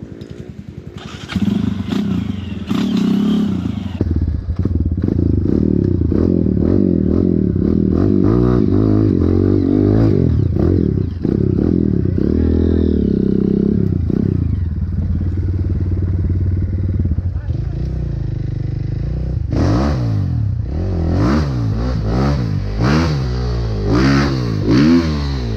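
A trail motorcycle at an off-road trail ride in Itararé, São Paulo, revs hard and roars past close by, its engine note rising and falling through repeated throttle blips while people shout and talk.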